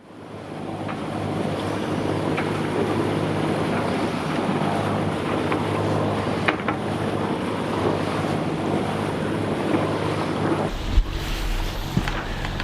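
Sailboat under way toward an anchorage in the Arctic, with steady loud wind buffeting the microphone and continuous rushing waves against the hull, a broadband roar throughout that shifts near the end with a low thump.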